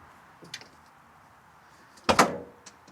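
A Westfalia camper van's sleeping roof area is opened, giving a short burst of clunking and sliding noise after a quiet stretch with a faint tap earlier, close by and fairly soft.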